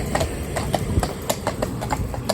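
Gelderlander horse hooves clip-clopping at a walking pace, a steady series of crisp, fairly close hoofbeats over a light background hum.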